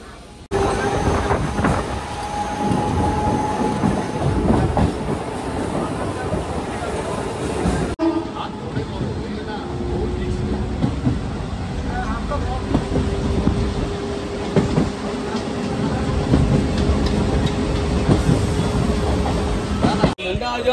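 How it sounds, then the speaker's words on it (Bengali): The Howrah to Digha local train runs on the rails with a loud, continuous rumble heard from inside the carriage, mixed with heavy wind buffeting the microphone, and a brief shift partway through. "হাওড়া থেকে দীঘা অবধি প্রথম লোকাল ট্রেনে জার্নি করছি"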